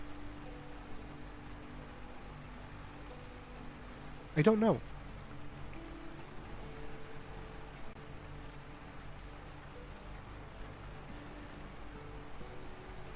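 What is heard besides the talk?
rain in the video game Lightyear Frontier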